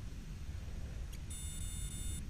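A DJI Spark drone gives a steady, shrill electronic beep tone in the second half, held over a low rumble of background noise, as it pairs with its remote controller.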